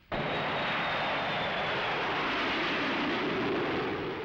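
A Mirage F1-C fighter jet takes off at Solenzara, its engine a loud, steady roar that bursts in abruptly and holds at full strength throughout, with no voices over it.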